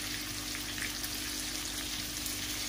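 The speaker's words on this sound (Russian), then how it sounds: "Уже обжарила утку. Сейчас сюда же добавляю морковку." Duck pieces and carrots sizzle in a frying pan with a soft, continuous crackle, quiet and steady, with no talking.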